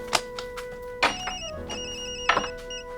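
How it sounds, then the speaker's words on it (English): A telephone rings in a bright repeating electronic trill, several clear bursts over a few seconds, loud and close with no voices. "As soon as I heard the phone"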